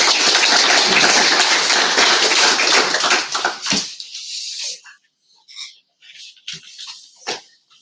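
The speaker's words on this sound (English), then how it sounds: "Round of applause." An audience at the Perth Cardano Summit claps in a dense, loud burst for about three and a half seconds, then it dies away, leaving a few scattered taps and faint sounds.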